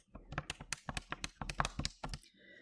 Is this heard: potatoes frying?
no